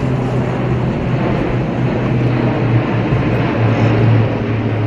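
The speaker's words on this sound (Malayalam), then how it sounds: "ഡൽഹി രാജ്പഥിലും സേനാ വിമാനങ്ങൾ പറന്നു" Military aircraft fly over Rajpath in Delhi during a tribute flypast. A steady, loud low drone holds throughout, with a slight swell near the end and no voices.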